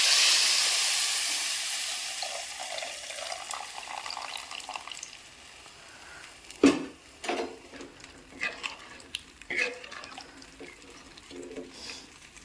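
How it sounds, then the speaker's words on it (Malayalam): Second coconut milk poured into a simmering fish curry masala, a soft steamy hiss that fades, then a splash and light bubbling and stirring sounds nearby. "തേങ്ങാപ്പാൽ 2ാം പാൽ ഒഴിച്ച് കൊടുക്കാം"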